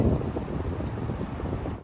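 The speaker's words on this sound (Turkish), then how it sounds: "Şu suyun sesi yeter." Flowing water on an Alpine outing near Stoos, Switzerland, a steady broadband rush mixed with wind buffeting the microphone, continuous and fairly close with no talking.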